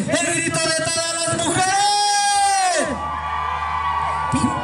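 Women in the crowd at a jaripeo rodeo in Santa Catarina, Guanajuato, let out a long, loud, shrill collective scream that swells and then cuts off, leaving murmuring crowd noise.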